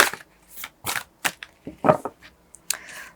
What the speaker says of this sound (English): I'll pull out 2 more and then I'll shuffle more cards for you